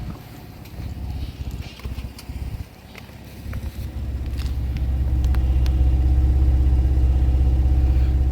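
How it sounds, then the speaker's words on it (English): A Dodge truck's engine and exhaust idle with a low, steady rumble, starting fairly soft with some clicking and handling noise, then swelling into a louder, sustained drone close by. "And now listen to this exhaust."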